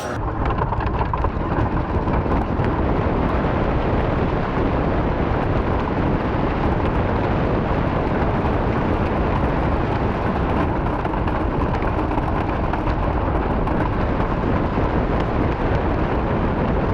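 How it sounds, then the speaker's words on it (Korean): A wooden racing roller coaster at Kings Dominion theme park thunders along its track, a loud, unbroken roaring rumble of wheels and rushing wind that fills the whole ride without letup. "나무 목재로 된 우든 롤러코스터인데 과연 우리가 이길 수 있을지 한번 타보도록 하겠습니다."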